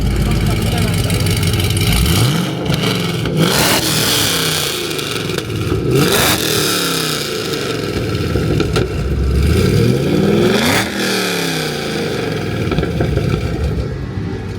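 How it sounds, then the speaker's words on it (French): A Chevrolet Camaro ZL1 V8 at a night drag meet, revving hard and accelerating in repeated loud sweeping surges that rise and fall, with people talking throughout. "On va lui montrer c'est quoi un V8."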